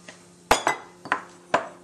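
Diced green pepper dropped into an oiled sauté pan for a hot Greek salad, four or five sharp close clinks of utensil against pan in quick irregular succession, with no talking.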